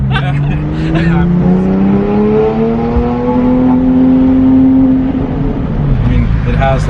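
Inside a Porsche GT3 with a Sharkwerks 4.1 engine on a ride-along, the engine climbs and falls through a loud, smooth rev and runs under talk from the people in the car.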